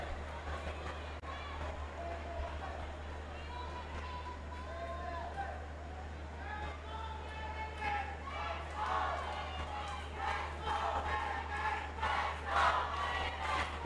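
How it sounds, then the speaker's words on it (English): Stadium crowd at a women's football match at Army Stadium during the SEA Games, a dense roar of voices and chanting that swells and grows louder toward the end, heard from within the stands under a steady low hum. "the crowd here at the Army Stadium starting to find their voice here"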